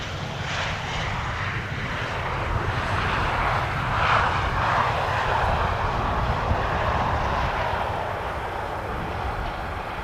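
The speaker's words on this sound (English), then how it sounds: "Two more narrow bodies coming in." A narrow-body airliner arrives at Amsterdam Schiphol Airport, its broad, steady engine roar carrying loudly and continuously, swelling slightly in the middle as it passes and staying constant throughout with no voices.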